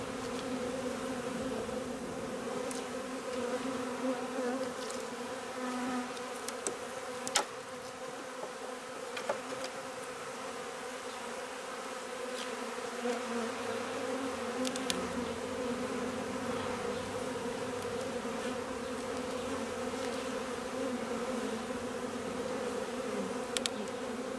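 Honey bees buzzing in a continuous dense drone during a late-July beehive inspection, with occasional clicks and knocks of hive handling and no talking.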